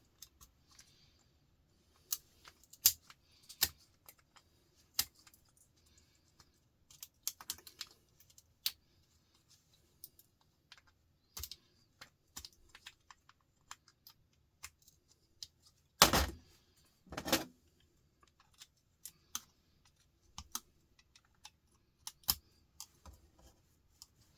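Large hand cutters snipping through small pieces of scrap metal in a small scrapping session, a long series of sharp close clicks and snaps at irregular intervals, with two heavier, louder cuts near the middle and no talking.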